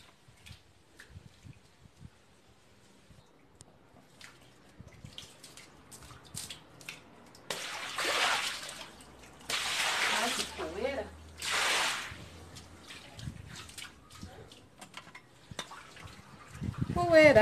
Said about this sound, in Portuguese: jogar essa água no quintal